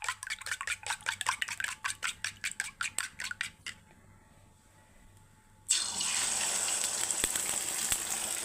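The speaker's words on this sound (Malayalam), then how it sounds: "ഞാൻ മൂന്ന് മുട്ട പൊട്ടിച്ച് ലേശം ഉപ്പ് ഇട്ട് അതിനെ ഒന്ന് വറവിന് ചെയ്യും പോലെ നമുക്കൊന്ന് കിണ്ടിയെടുക്കാം" Three eggs with salt are beaten with quick, regular clinks of a utensil against the bowl. After a short quiet pause, a sudden, steady sizzle rises as they hit the hot pan.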